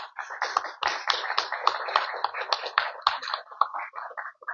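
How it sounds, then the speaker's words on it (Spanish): A small audience at a university book fair presentation claps in a light, irregular patter, close and moderately loud, continuing steadily for several seconds with faint whispering underneath. "Un fuerte aplauso, por favor."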